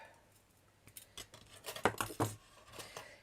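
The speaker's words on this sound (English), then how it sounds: "So I'm just going to trim some of this wire off." Wire being snipped with a cutting tool while building a miniature trash can, a few quiet close clicks and snips in a cluster, with no talking.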